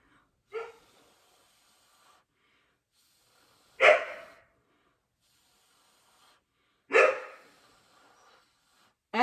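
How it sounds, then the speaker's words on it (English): A dog barks in single, well-spaced woofs from the top of the stairs, about every three seconds, with quiet in between; the barks sound somewhat distant, as if from another room. "Yeah, Echo, he's at the top of the stairs barking."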